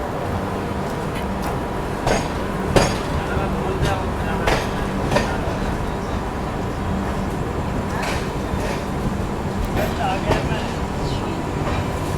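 Swarna Jayanti Rajdhani Express pulling into Gurgaon station, with a rumbling train, wheel clatter and station noise, and intermittent voices nearby.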